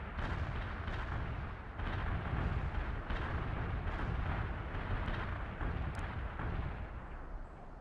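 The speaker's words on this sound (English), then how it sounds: "Artillery barrage hit for full effect" An artillery barrage in World in Conflict pounds away in a continuous, loud rumbling roar of overlapping explosions, with distinct heavier impacts breaking through the sustained thunder.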